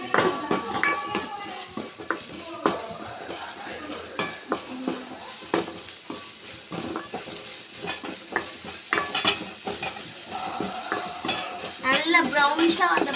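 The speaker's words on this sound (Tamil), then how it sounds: "அப்புறம் வெங்காயம் போட்டுக்கலாம். அதில் நல்லா வதக்கி விட்டுக்கலாம்." Onions and curry leaves sautéing in oil in a pan, with a loud continuous sizzle and hiss broken by repeated spoon scrapes and clinks against the metal, up close.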